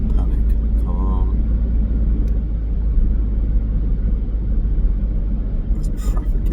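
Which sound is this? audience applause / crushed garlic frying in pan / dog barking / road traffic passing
road traffic passing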